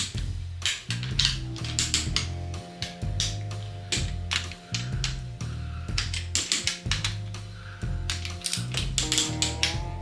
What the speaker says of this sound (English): So we just torqued these top ones down, 13 to 16 foot-pounds.